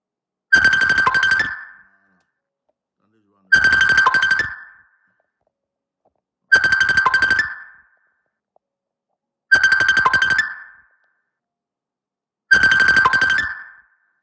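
A phone ringtone rings during a live stream, five loud, clear bursts about three seconds apart, each with a bright chiming tone, separated by silence.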